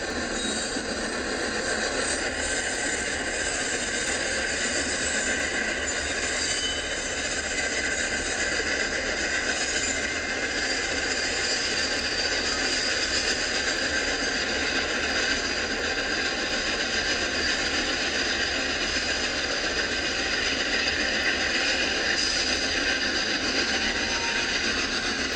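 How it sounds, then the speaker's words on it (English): A CSX freight train with two engines rumbles past over a derailment switch, with steady engine drone and hissing, continuous wheel-on-rail noise holding at an even level throughout. "both of the engines of the CSX train pass over the derailment site safely"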